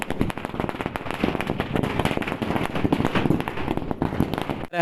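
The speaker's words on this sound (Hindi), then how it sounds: "ये पटाखे फोड़े जा रहे हैं" Firecrackers set off at an election victory celebration in West Champaran, Bihar, a rapid, continuous string of loud crackling bangs going off close by for several seconds before stopping abruptly.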